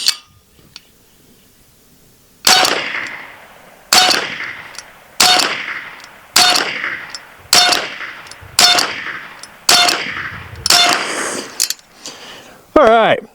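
A semi-automatic .357 Bin Tac S45 airgun fires a string of about nine evenly spaced shots, each ending in a sharp ringing clang as a metal target is struck, loud and close, with a short voice at the end.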